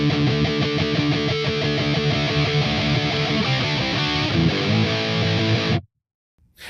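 Distorted electric guitar plays a fast fill from a song, loud and dense with sustained chugging chords and no talking, then cuts off abruptly to silence near the end.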